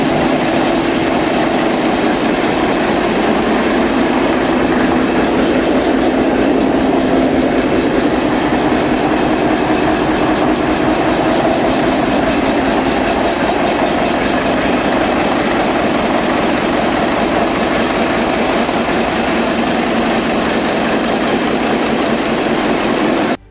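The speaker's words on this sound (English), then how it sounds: "This 5-cylinder Blackstone EPV from 1944 powers up with the steady strength you'd expect from wartime engineering." A 1944 Blackstone EPV five-cylinder diesel engine runs loud and close with a steady, rhythmic low chugging and a dense mechanical roar that holds without a break.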